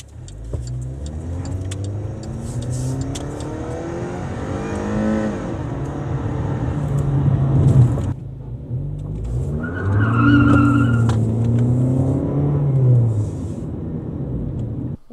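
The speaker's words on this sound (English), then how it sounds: "they especially seem to love doing burnouts on this hill" An older car does a burnout on a hill, its engine roaring and revving loudly while the tires skid and squeal continuously, with a brief dip before the engine surges and the squeal rises again, all close up.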